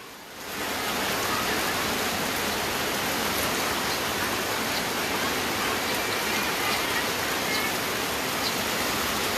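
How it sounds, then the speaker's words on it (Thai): A dense, steady roar of heavy rain pours down continuously, loud and close, with no break over its length, during flooding in Loei, Thailand. "ฝนก็มาเรื่อยๆค่ะ"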